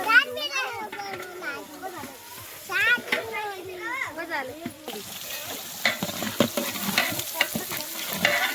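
Onions frying for a wood-fire chicken biryani, a soft sizzle and stirring that sit under lively children's chatter and play for the first half, then become more audible as scraping, clattering stirs.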